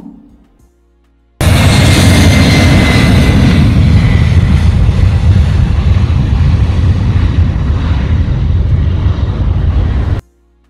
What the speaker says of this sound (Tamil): ஃப்ளைட்டெல்லாம் ரொம்ப கிட்ட பார்க்குற மாதிரி இருந்தது.